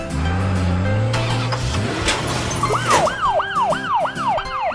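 A green ambulance siren from a children's cartoon with race cars wails in repeated rising-and-falling sweeps in the latter half, loud and close, following a stretch of cartoon vehicle engine and motor sounds.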